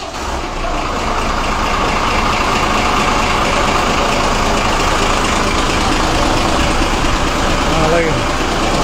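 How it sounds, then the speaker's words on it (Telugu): An APSRTC bus on the Tenali to Kothurulanka route idles with a loud, steady, close-up engine rumble before departure, while voices talk over it. "కొత్తూరు లంక బస్సు బయలుదేరుతుంది."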